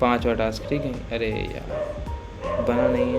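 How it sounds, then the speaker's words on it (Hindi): Dogs bark and yip outside, distant but persistent, beneath someone talking. "ये कुत्ते अलग ही और भौंक रहे हैं, पता नहीं क्यों"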